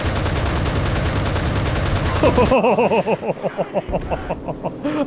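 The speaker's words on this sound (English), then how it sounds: "Where are we being shot from?" Gunfire in the online shooter Enlisted, a loud, dense burst of rapid automatic shots for a couple of seconds, after which a voice laughs and talks over scattered fainter battle noise.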